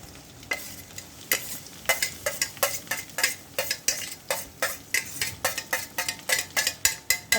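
A vegetable dish cooking in a pan is stirred with a utensil, giving a steady series of sharp scraping clinks against the metal over a low sizzle, close and regular.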